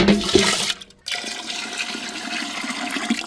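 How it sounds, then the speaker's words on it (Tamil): Water pours onto rinsed lentils in a pot for traditional South Indian sambar, a rushing splash that stops for a moment and then resumes as a steadier, softer flow. "அலசி தண்ணியோட இறக்கிறோம்"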